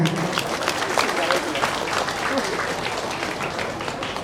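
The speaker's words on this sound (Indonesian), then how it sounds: "Tepuk tangannya pada semuanya." Audience applause at a public Islamic religious gathering, a dense steady wash of clapping with crowd noise and some voices mixed in, held at even loudness throughout.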